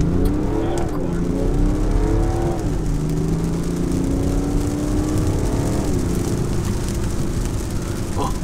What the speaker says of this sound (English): I want to show you guys the acceleration power of this car